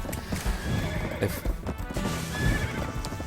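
Horse whinnying and clip-clopping hooves in the online role-playing game Black Desert, steady galloping hoof beats with a neigh rising over the top, moderately loud with game ambience behind.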